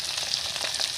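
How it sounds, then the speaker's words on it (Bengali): Cumin and radhuni seeds fry in hot oil with a steady, bright crackling sizzle, close and continuous, sprinkled with tiny pops, no voices. "আর জিরে, আর দিয়ে দেবো রাঁধুনি গুলো আমি দিয়ে দিচ্ছি তেলের উপরে"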